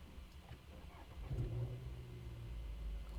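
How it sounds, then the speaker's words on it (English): A car engine cranks and catches midway through, settling into a low, steady idle hum after a quiet lead-in. "Now I'm starting the car"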